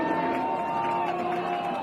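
A high school football crowd cheers on the Lone Peak Knights defense on a third-down play against Mountain Ridge, giving a steady, dense roar of voices and whoops that fills the whole moment.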